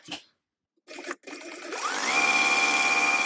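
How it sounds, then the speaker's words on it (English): A sewing machine bastes zipper tape at an eighth-inch seam, starting after a couple of short handling knocks and then ramping up into a steady, loud, close whirring run. "let's stitch this down. We're just basting it down."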